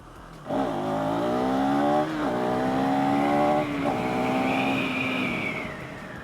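Loud KTM 390 SMC R supermoto motorcycle engine revving up through several gear changes, pitch climbing then dropping at each shift, close and continuous.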